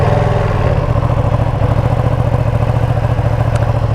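A rare Ducati motorcycle engine fires up and settles into a rough, lumpy idle, loud and close, with a fast chattering clatter like a lawn mower and a brief click near the end.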